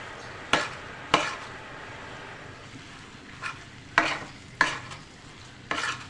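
Mashed potato bharta roasts in a pan under a low, steady sizzle, with about six distinct scraping stirs spaced irregularly, near and without talk.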